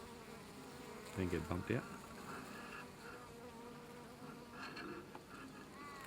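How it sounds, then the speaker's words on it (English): Native bees and honeybees buzz around a large flowering Melaleuca at Port Germein, with one close, loud droning pass swelling for about half a second amid a softer, steady background hum; someone speaks briefly. "Now, a nice big Melaleucas like this, just full of bees and full of honey."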